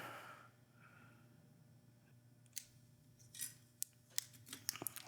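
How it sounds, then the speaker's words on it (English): Wire cutters snip wire during a soldering repair on a wireless saxophone microphone. A quiet stretch gives way to several sharp, close clicks and snaps in the last couple of seconds. "Snip that off"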